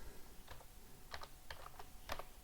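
Typing on a computer keyboard in a spreadsheet, a few faint, scattered key clicks in small clusters, quiet and close, with no talking.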